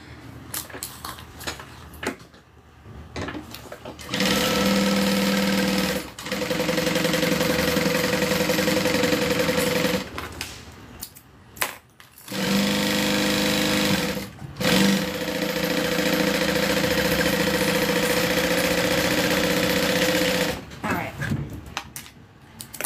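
A sewing machine stitches close up in two long, steady bursts, each running several seconds, separated by short pauses with faint handling noises.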